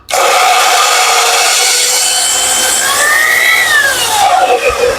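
A drill spins a cylinder head valve against its seat during lapping, a loud continuous gritty grinding and rubbing with shifting whine-like tones as pressure changes.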